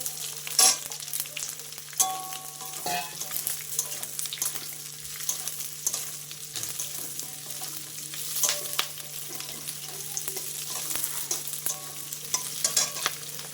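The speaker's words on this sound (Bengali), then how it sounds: "দেখো ক্যাপসিকামটা আমি একটু নেড়ে চেড়ে নিলাম" Chopped capsicum frying in a pan for chilli chicken, a soft continuous sizzle with intermittent clinks and scrapes of a spatula stirring, close up, with a steady background hum and no voices.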